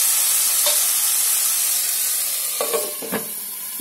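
Chopped tomato being mixed into a fish head masala frying in oil, with a loud steady sizzling hiss, close by, and a couple of brief spoon scrapes near the end.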